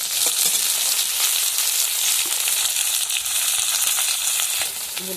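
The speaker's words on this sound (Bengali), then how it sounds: "পেঁয়াজটা ভাজা হয়ে গেছে, এবার টমেটো দিয়ে দিচ্ছি।" Tomatoes go into a pan of fried onions for a prawn do-pyaza curry, and a loud, steady broadband sizzle fills the whole stretch with no talking.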